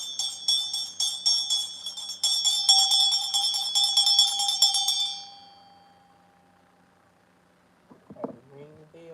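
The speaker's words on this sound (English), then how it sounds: "ring the bell to clear the energy" A small bell struck repeatedly in a cleansing ritual, bright ringing tones overlapping and then fading into a long decaying shimmer, followed by a few spoken words.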